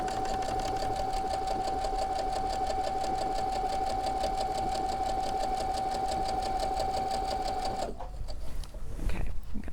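Sewing machine stitching quilt pieces, a steady close mechanical whir with a fast needle rhythm that runs for about eight seconds and then stops, leaving faint handling noise.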